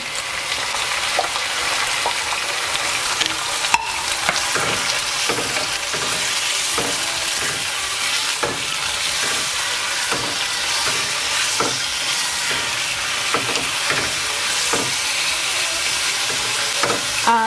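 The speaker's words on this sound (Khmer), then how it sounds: "ឥឡូវនេះខ្ញុំចាប់ផ្ដើមចាក់គ្រឿង seafood ទាំងអស់ហ្នឹងចូលតាណាគ្នាហើយ" Mixed seafood is stir-fried in a hot wok: a dense, steady sizzle runs throughout, with a spatula scraping the pan in regular strokes about once a second. No voices.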